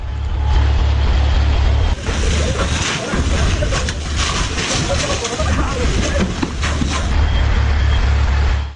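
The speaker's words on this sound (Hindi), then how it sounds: "आप देख रहे हैं फायर ब्रिगेड की गाड़ियां मौके पर पहुंच रही हैं।" Fire brigade trucks arriving at a blaze after an Iranian missile attack in Israel, a loud continuous low engine rumble with hissing and clattering on top, close and steady throughout.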